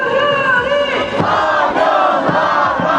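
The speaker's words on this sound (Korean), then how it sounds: "함성 소리 이 정도면 꽤 큰데?" Loud rally crowd in central Seoul roaring and shouting together in sustained waves, a dense mass of voices that swells and surges throughout without a break.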